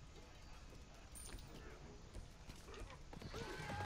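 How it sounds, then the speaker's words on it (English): Horse hooves clip-clop in a video game, a faint, irregular series of knocks building slightly over a busy game-sound background. "Horse!"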